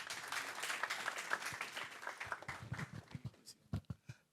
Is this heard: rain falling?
no